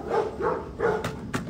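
A puppy barking in short, fairly quiet yips, about three soft bow-wow calls in a steady rhythm followed by two sharper clicks or taps, nearby with no one speaking.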